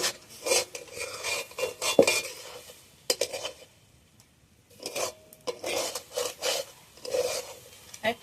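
Semolina halwa with coconut scraped and stirred in a pan, bursts of rasping spoon strokes coming in uneven groups, with a pause between them, close and moderately loud.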